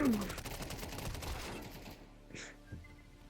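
Rapid bursts of gunfire in Counter-Strike 2 rattle for about two seconds, then fade into quieter game sounds with a couple of soft tones.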